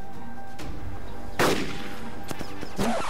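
Gunfire in the video game Arma 2 DayZ Origins mod, with two or three sharp shots at spaced intervals over a steady background hum.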